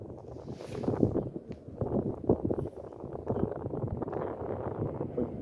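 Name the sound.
strong wind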